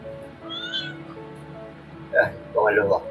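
A cat meows several times near a riverside home under a bridge. The calls are short and fairly close, with two louder meows toward the end, over a murmur of background voices.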